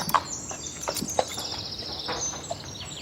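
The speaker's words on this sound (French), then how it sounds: "Un cheval et une femme Caroline marchent côte à côte dans une écurie." A horse walks inside a stable, its hooves giving a few irregular, moderately soft clip-clops against a quiet background with faint bird chirps.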